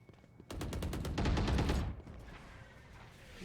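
A rapid burst of SMG fire in Valorant, lasting about a second and a half at close range, then a fading echo and quiet.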